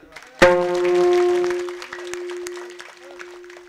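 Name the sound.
audience applause at a kirtan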